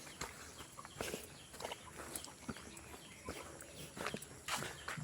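Chickens clucking and scratching about nearby, with scattered footsteps and rustling; short irregular bursts over a low background, no talking.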